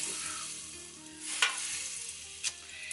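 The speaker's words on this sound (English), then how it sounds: "Watch it sizzle up." Butter sizzles in a hot frying pan before salmon and eggs are cooked, a steady crackling hiss and a couple of brief louder spits, close by, no voices.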